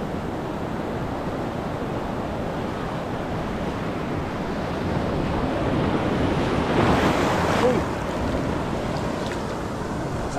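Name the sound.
ocean waves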